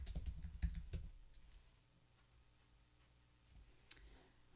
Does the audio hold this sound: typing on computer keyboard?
yes